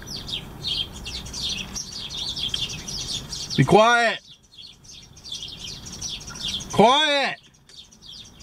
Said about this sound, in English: all of a sudden these birds just start chirping like they came in as a flock